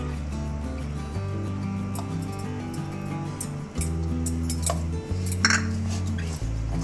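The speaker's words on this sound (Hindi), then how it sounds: "अच्छे से इसको मिक्स कर लें।" Spoon stirring flour, salt and other vegetable paratha dough ingredients in a bowl, with a few light clinks of metal against the bowl over a steady, droning tonal background.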